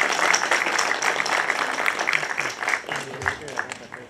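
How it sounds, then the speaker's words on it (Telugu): An audience claps at the Razakar movie trailer launch event, a dense burst of applause that stays strong at first and then gradually thins, mixed with crowd noise. "అందరు చప్పట్లు కొట్టారు సార్."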